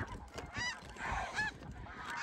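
Flock of snow geese honking overhead during a hunt, a dense chorus of overlapping nasal honks and calls rising and falling continuously for a couple of seconds at moderate distance.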